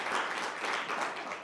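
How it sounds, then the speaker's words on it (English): Studio audience applauding a band on a late-night television music show, a steady dense wash of clapping filling the short stretch with one sharp louder clap near the end. "give a big round of applause for our band"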